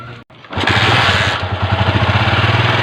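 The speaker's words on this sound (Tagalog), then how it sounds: "Ayan, okay na. 1 click na yung motor natin." A hard-starting motorcycle kick-started once, a brief kick scuffle followed by the engine catching at about half a second and settling into a loud, steady, close idle with a regular pulsing beat.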